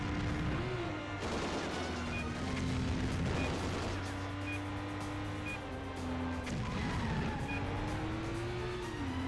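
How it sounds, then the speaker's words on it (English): Stunt driving in the Stuntman video game, with a car engine droning steadily throughout as tires squeal and repeated explosive booms and crashes punch through the roar. "Get close to the explosion."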